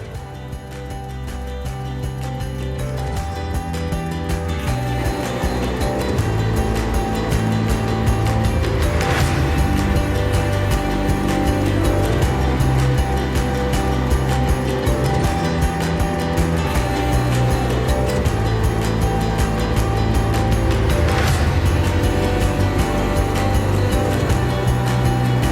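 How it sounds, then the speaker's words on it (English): Band saw motor running steadily after start-up, building from a low spin-up to a constant loud mechanical whir with a rhythmic ratcheting clatter from the blade and wheels, alone with no talk. "what you're going to want to do is turn it on and then off real fast to make sure that your blade is actually stable on your wheels"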